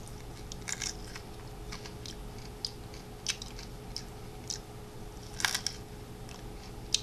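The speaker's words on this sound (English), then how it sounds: "Makes an amazing sound as I bite into it." Crunchy Asian preserved fruit bitten and chewed up close, a string of crisp, irregular crunches and snaps standing out over a quiet background hum, with no talking.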